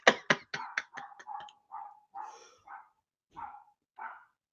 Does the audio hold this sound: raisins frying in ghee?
no